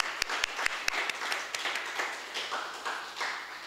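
Audience applause at a political party tour event in St. Pete, Florida, with a few sharp distinct claps at first and then a thinner patter of clapping that fades over a few seconds.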